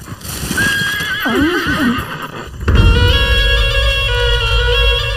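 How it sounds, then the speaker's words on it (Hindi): A horse pulling a horse-drawn cart neighs loudly with a long, wavering whinny. Then a sudden loud burst of clattering and hooves takes over and carries on close, with no speech. "अरे भाई मगधीरा, इस घोड़ा गाड़ी को बाईं तरफ से दायां करके पीछे ले लो,"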